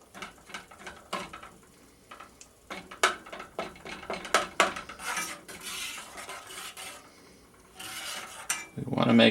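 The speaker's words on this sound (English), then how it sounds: "And we will just stir this until it's mixed together." A spoon stirring a gelatin mixture in a saucepan over low to medium heat for blueberry dog treats, giving irregular scraping and clinking taps against the pan, moderately close, with a louder clatter near the end.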